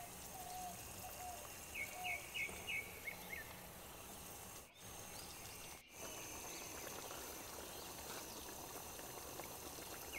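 Fish curry bubbling in a pot at a forest campsite, a steady low boil with liquid gurgling throughout, birds chirping faintly in the background and two brief dips where the sound cuts out.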